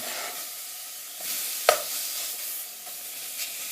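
Partly frozen, microwave-thawed chicken frying in a pan gives a steady soft sizzle, with a few brief stirring clicks and pops close by.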